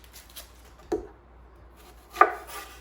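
A knife cutting through an onion on a board, two quiet separate chops with a soft scraping touch in a still kitchen.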